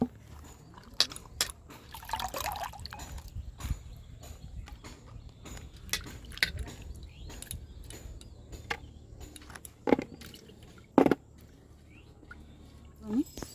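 Cabbage, tomato, ginger and garlic are washed together in a pot of water for village cooking, giving scattered soft splashes and sharp clicks over a faint, quiet background.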